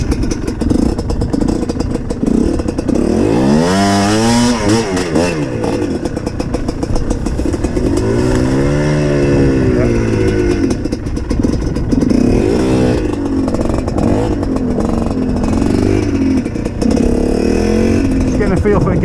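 A GPX TSE 250R motorcycle engine, fairly low geared, revs steadily under a rider through the gears, its pitch climbing and dropping with each shift, loud and close throughout.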